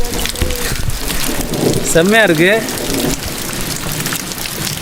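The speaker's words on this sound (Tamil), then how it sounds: "மழை பெரிய மழையாக பெய்ய ஆரம்பிச்சிருச்சுங்க." Heavy rain pours steadily at the Ramakkalmedu viewpoint, a loud continuous hiss and patter throughout, while someone speaks briefly over it.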